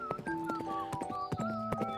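Hooves of a mare clip-clop at a steady walking pace as a man rides her to pasture, with light musical tones running alongside the hoofbeats.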